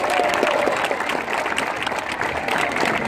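An audience at a Special Olympics opening ceremony applauds loudly and continuously, a dense sustained roar of clapping with some crowd noise mixed in, holding steady for the whole stretch.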